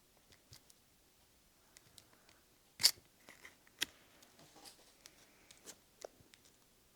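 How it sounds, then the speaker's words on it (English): Origami paper being creased and folded into a mini Greninja: soft, sparse crinkles and taps, with one sharper crisp snap of paper partway through, all faint and close. "we're gonna start a crease from this corner, like this. And we're gonna fold this edge to the top."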